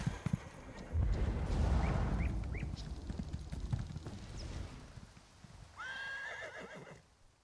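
Horse hooves clip-clop in the video game Elder Scrolls Online, a steady, close run of hoofbeats with a horse's neigh or whinny rising near the end, and no one talking.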